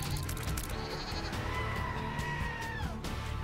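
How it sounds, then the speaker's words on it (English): Modded goat bleats replace the usual sounds in The Binding of Isaac Afterbirth, with several loud, wavering bleats overlapping in quick succession over a dense backdrop of game noise and music. "where we replace all the fucking goat noises"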